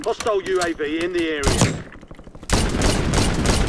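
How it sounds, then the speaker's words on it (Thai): Shotgun blasts in the battle royale video game Warzone, a burst of loud gunfire following a short stretch of talk, then dense continuous firing and action noise to the end. "ไอ้บ้าลูกซองยิงไม่ถึง"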